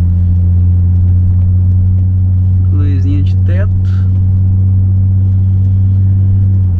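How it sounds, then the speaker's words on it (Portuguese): Steady low engine rumble from a 2005 Mercedes SLK with a 3.5 V6 in Sport mode, droning evenly and close throughout while someone speaks briefly partway through. "o ronco do motor V6, né? Que eu acho muito top"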